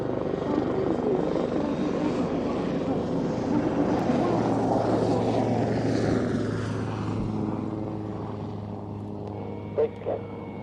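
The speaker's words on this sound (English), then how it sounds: "the Lynx remains a very capable and agile helicopter" A Lynx helicopter roars loudly and continuously overhead, its engine and rotor drone steady, then slowly shifting in pitch as it passes.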